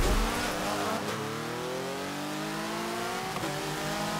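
A touring car in Forza Motorsport 7 accelerating out of a corner, engine revving up through gears with rising harmonic whine, loud and steady, with a brief shift around the middle and another near the end, no voices.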